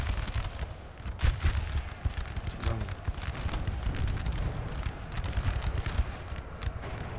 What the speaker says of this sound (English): Just hear the rattle of the muskets.